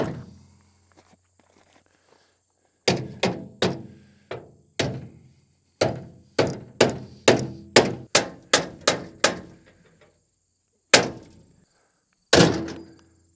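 Repeated metal hammer strikes on a bent bolt of a rotary cutter, sharp clanging thunks arriving in uneven bursts with short pauses, close and loud, no talking.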